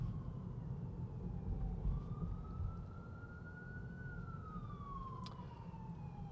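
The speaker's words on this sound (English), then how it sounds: "Oh, I hear some sirens." Emergency vehicle sirens wail along a narrow city street, a steady rising and falling tone heard from inside a moving car over low road and engine rumble, growing slightly louder as they pass.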